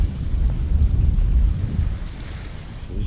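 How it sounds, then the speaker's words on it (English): Steady wind buffeting on a rocky shoreline rock wall by the bay, a continuous low rumble of gusts against the microphone with faint background wash and no voices. "It's pretty windy."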